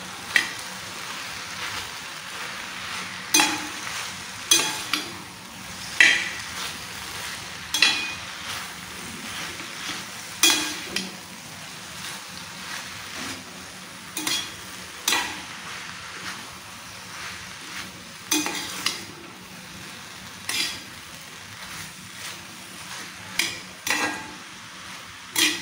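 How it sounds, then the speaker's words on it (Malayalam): Avial vegetables are stirred in a pan, giving a soft background sizzle broken by repeated scraping strokes at irregular intervals, and no one talks. "ഒന്നും കൂടി നമുക്കെല്ലാം ഒന്ന് മിക്സ് ആക്കാം."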